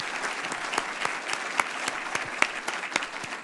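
Steady applause from a luncheon club audience, a dense wash of many hands clapping together with a few sharper claps standing out, heard from a little distance and holding level throughout.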